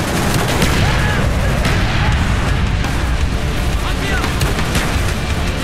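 Bomb run explosions and gunfire in a Vietnam War video game, a loud continuous barrage of booms and rattling fire with dense overlapping blasts throughout.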